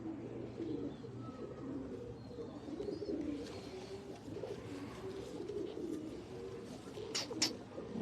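Low, throaty coos from a breeder hen pigeon repeat in a soft rolling rhythm, close by, with a few faint higher chirps and rustles near the end.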